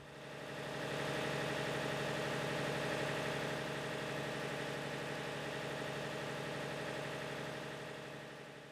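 Diesel engine running steadily at an Antarctic research station, a loud, continuous droning rumble that fades in, holds level for several seconds, then tails off slightly.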